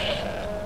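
A goat bleating in Skyrim: one short, nasal, wavering bleat close by, heard alone.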